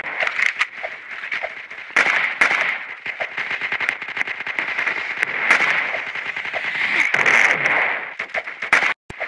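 Gunfire in an Allies-versus-Axis shooter video game: rapid, close bursts of shots and cracks come in uneven clusters over a busy game soundscape.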